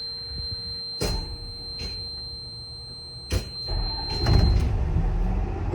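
City bus doors cycle open during a pretrip check with the engine running: a few sharp clunks and a hissing pneumatic release stand out over a low idling rumble, with a faint steady whine in the background.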